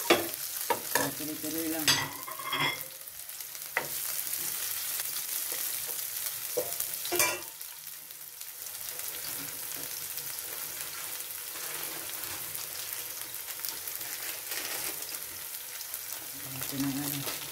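Onion frying in a pan for chicken adobo with potato, with steady sizzling and intermittent stirring scrapes, louder clatters early on, and a voice speaking briefly over the cooking.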